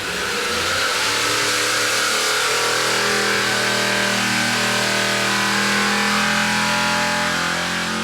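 A loud V8 Supercars race car engine on a dyno revs hard and climbs steadily in pitch, roaring continuously as it winds up to about 6,000 RPM.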